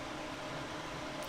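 Graphics card fans on a pair of RTX 2080 Ti cards in SLI running at full 100% speed, a steady broadband whoosh of air noise without pauses.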